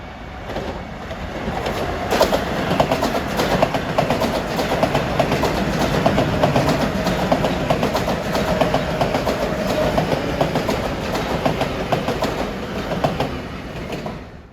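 Long Island Rail Road commuter train running westbound from Ronkonkoma to Grand Central through triple track at Mineola, a loud approaching rumble with rhythmic clickety-clack of wheels over rail joints.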